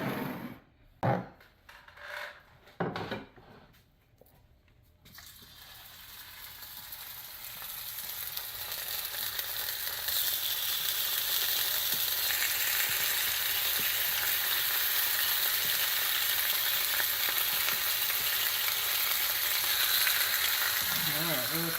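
Plantains drop into hot oil in a pan after a few knocks and handling sounds, then a loud, steady frying sizzle builds and holds, close up and without talk.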